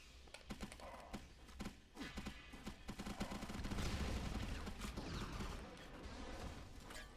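Rapid bursts of gunfire from the GameCube game BloodRayne, sharp repeated shots rattling over a dense, loud wash of in-game noise and rumble, building into near-continuous firing.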